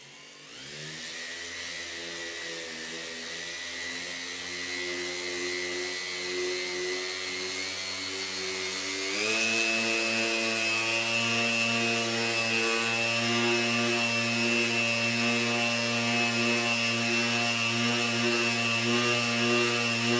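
A machine polisher buffing scratched car body paint, a steady whirring motor drone with strong tonal harmonics that steps up in pitch and loudness partway through, then holds constant and close.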